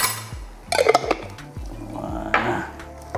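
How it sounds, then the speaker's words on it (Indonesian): Spices stir-fry in a pan for Madura beef soto, with a metal utensil scraping and clinking against the pan in irregular strokes over a low background sizzle, close and moderately loud. "Gongso lagi bosku."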